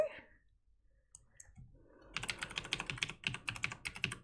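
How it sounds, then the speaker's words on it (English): Quick bursts of typing on a computer keyboard, soft at first with a few isolated clicks, then a dense run of clattering keystrokes close by. "I know you can still hear my keyboard."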